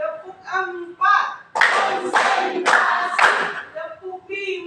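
Schoolchildren in a classroom clap in unison in several loud, rhythmic bursts, between stretches of a voice calling out a count.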